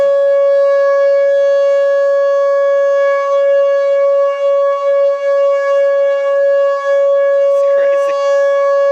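A civil defense tornado siren in El Reno, Oklahoma wails loudly and steadily on one sustained tone, with a brief remark from a person near the end.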